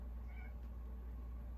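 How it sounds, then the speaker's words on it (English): A house cat meows indoors, a single short, faint call rising briefly over a quiet room hum with no talking. "Sorry if you can hear little Miss Ellie"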